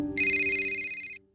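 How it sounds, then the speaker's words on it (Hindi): Telephone ringing, a bright electronic tone with steady harmonics sounding once for about a second before cutting off, then a brief new sound starts at the end; close and clear with no talking. "तब इधर अभिनव का फोन अभी भी बजे जा रहा था"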